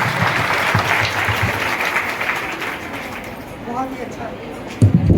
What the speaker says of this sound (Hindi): बहुत जोरदार तालियां एक बार और बजनी चाहिए।